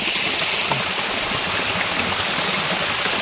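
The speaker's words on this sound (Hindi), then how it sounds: "ये वाटरफॉल देख के आप यहाँ पे बस बैठ सकते हो" A waterfall and stream at an off-beat spot near Rishikesh, rushing water hissing steadily and loudly, close by, with no talk over it.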